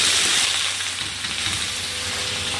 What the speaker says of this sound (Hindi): अभी हम फ्राई करेंगे आलू। तो आलू को फ्राई करने के लिए हम तेल गरम किया है